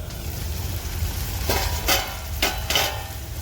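Wild alambi mushroom vegetable stir-fried in a pan, with a steady low sizzle under a few sharp scraping strokes of a spoon against the metal near the end.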